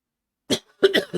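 A short burst of coughing: one sharp cough, a brief pause, then a quick cluster of three more, close to the microphone.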